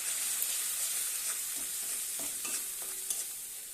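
Spice paste of chili, turmeric and salt being sautéed and stirred in a pan, a steady close sizzle with light scraping of the spoon, no voices.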